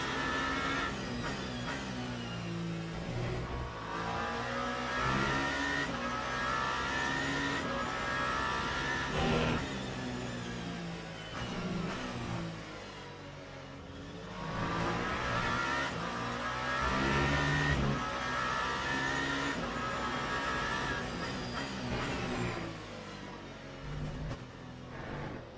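A race car engine in a racing video game at Imola, running steadily and loud with rising and falling revs as it drives on, no talk over it.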